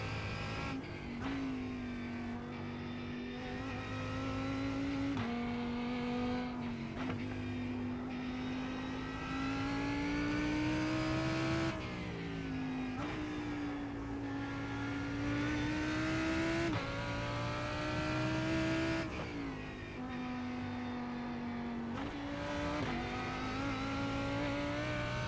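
Lamborghini GT race car in a racing sim at the Nürburgring, its engine droning loudly and continuously, revving up through gears with brief dips at each shift and no talk over it.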